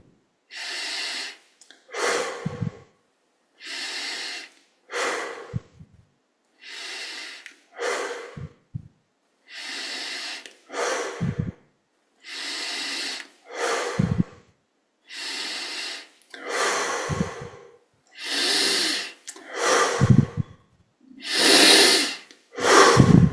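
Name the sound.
deep breathing during a yoga breathing exercise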